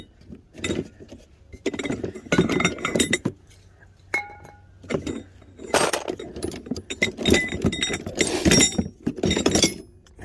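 Metal tools clink and clatter in bursts while someone rummages through a disorganized toolbox for a 1/2-inch drive wrench, the rattles loud and close with short pauses between handfuls.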